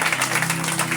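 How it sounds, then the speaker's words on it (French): A church congregation applauds steadily during a French-language service, a dense, continuous wash of clapping that stays even and fairly loud throughout with no voice on top. "Continuez à applaudir le Seigneur"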